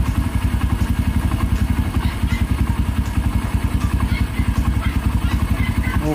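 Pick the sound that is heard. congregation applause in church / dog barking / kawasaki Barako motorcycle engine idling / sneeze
kawasaki Barako motorcycle engine idling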